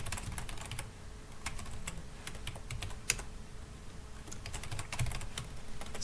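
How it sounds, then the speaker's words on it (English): Rapid typing on a computer keyboard, with quick irregular bursts of key clicks running steadily throughout and no talking. "we're actually going to type fast and do a list quickly"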